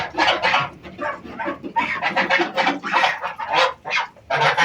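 Geese and turkeys, including American Bronze turkeys, crowd a poultry yard with a dense, continuous din of honking, clucking and gobbling calls overlapping near and loud, with no talk over them.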